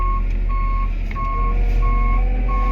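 Steady reversing beeps from a truck being driven, evenly spaced tones repeating over a loud continuous engine rumble, with no talking.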